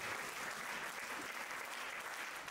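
A church congregation at a women's conference claps steadily, a dense even wash of applause that stays constant and moderately distant throughout, with no clear voices.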